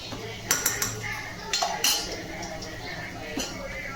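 Chicken curry ingredients with ginger-garlic paste are stirred in a metal cooking pot, and a spoon clinks and scrapes against the sides several times in quick, uneven strikes over a low sizzle.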